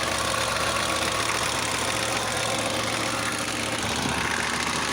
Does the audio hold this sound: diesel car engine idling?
yes